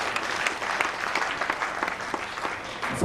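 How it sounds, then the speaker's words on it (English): A round of applause from an assembly audience, dense, even clapping from many people that carries steadily from start to finish with little else heard. "We have a round of applause."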